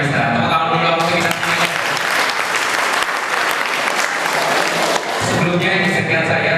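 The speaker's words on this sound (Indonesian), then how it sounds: "Tepuk tangan dulu untuk kita." A student audience at a motivation training session breaks into sustained applause, a dense, loud wash of clapping that swells for several seconds before thinning out.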